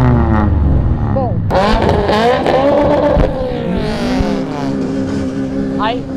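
Several Honda Civic cars, including a 90 Civic SI, rev and accelerate away one after another, engines rising and falling loudly nearby while people talk over them.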